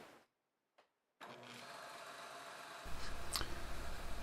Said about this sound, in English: So this is the bloodwood I'm cutting.